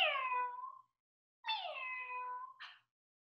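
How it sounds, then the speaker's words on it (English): A cat meows twice, two long drawn-out wailing calls separated by a short silence, the second ending in a brief rough chirp, close and clear with no other sounds. "That's right, it's a cat."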